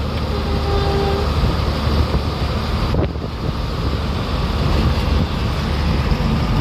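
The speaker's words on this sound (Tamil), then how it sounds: "அந்த பக்கம் ஒரு எக்ஸ்பிரஸ் வருது." An express train rushes past on a rail line, with a high-speed train running on the opposite track, producing a loud, steady rumble and wheel roar with windy rushing that fills the whole stretch, close by.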